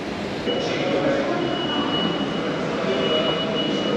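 Steady rumble of a train in a station, a continuous low roar with faint squeals and indistinct voices in the background.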